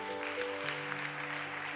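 A church congregation clapping at a worship service, a brief spread of hand claps over sustained keyboard chords.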